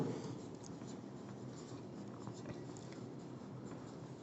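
Pen or marker writing out a maths property on a board or page, faint continuous scratchy strokes with a soft steady hiss and no speech.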